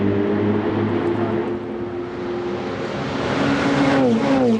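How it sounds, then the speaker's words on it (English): Ferrari Challenge Europe race cars in the Trofeo Pirelli race at Monza roar past, a sustained, loud engine howl that swells and shifts upward in pitch as the cars close in and sweep by, with no talk. "What a sound as those cars roar past our camera position there"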